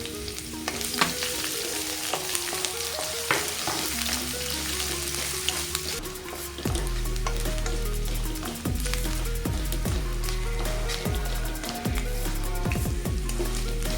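Finely chopped garlic frying in a pan with constant crackling sizzle and occasional stirring, loud and close with no voices, turning heavier and denser midway.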